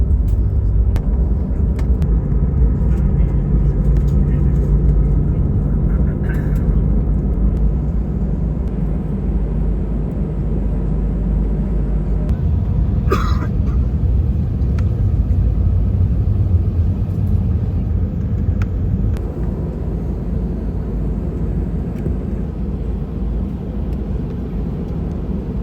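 Cabin noise aboard an Indonesia AirAsia Airbus A320 taxiing at Jakarta, a loud, steady low rumble from engines and wheels that runs unbroken, with a brief higher whine and a few faint clicks partway through.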